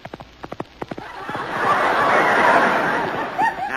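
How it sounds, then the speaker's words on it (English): Radio sound-effect horse hoofbeats made by thumping plungers: a quick run of sharp clip-clop knocks, then a loud, sustained burst of studio audience laughter. "These are plungers, Marlena. Those are the horse's hoofs in radio."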